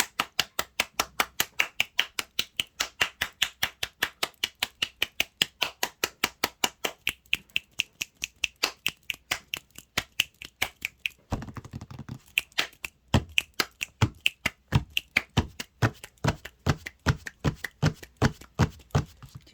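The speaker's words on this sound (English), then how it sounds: "I try and not speak so much when there's clapping and clicking going on" Rapid, regular finger snaps and claps during a spoken astrology reading, a long run of sharp, evenly spaced clicks close to the microphone, briefly broken by a denser burst midway before the steady rhythm resumes.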